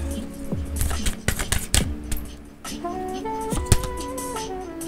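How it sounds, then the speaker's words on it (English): Tarot cards being shuffled by hand, giving a quick run of papery riffles and soft slaps in the first couple of seconds, close and fairly quiet, with a voice speaking over the later part. "Get these guys nice and shuffled up."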